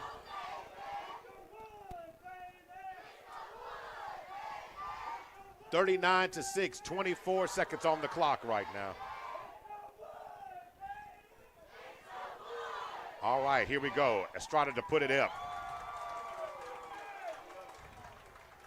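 A crowd at a Marlow vs Millwood high school football game chants the wood chant in two loud, rhythmic bursts, rising over the general crowd noise while an announcer talks throughout.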